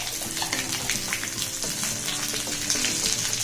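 A steady, close sizzle of tempering in hot oil, with bursts of crackling as chutney hits the pan and gets stirred.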